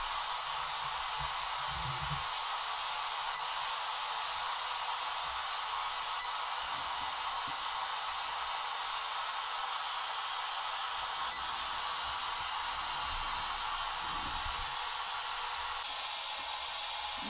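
Continuous loud radio static from a ghost box sweeping the radio dial during a French paranormal investigation: a steady broadband hiss with faint low murmurs and brief fluctuations underneath, and no clear speech.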